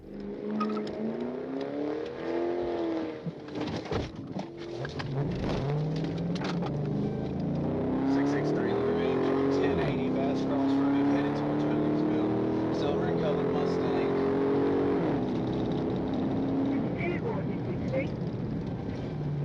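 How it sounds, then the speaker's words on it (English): A car speeding away from a police trooper to start a pursuit, its engine revving and rising in pitch through repeated gear changes, steady and fairly close, with a voice talking over it throughout. "the driver suddenly sped away, initiating a pursuit"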